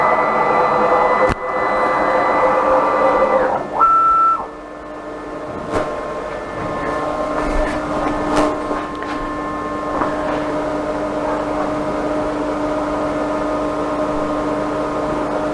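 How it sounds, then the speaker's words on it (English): A 6040 CNC router homes its axes, a steady motor whine with a brief pitch shift in the middle before the drive settles into a level hum, loud and close. "So before we can start doing a job, you need to home your machine"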